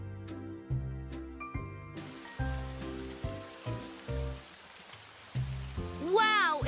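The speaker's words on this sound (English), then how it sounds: "Wow, it's really raining out there." Steady cartoon rain hisses outside in a children's PAW Patrol game, a soft broadband patter that sets in partway through beneath bouncy musical notes, ending with a rising sparkly sound effect.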